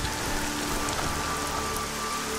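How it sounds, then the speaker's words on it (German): Steady rain pours down in the fantasy role-playing game Arcania, a continuous dense hiss of drops on surfaces with no voices, even and moderately loud throughout. "jetzt fängt es wieder an zu regnen"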